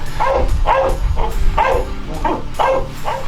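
A search and rescue shepherd dog barks repeatedly, about seven sharp, loud barks in a fairly regular rhythm, close by and alone.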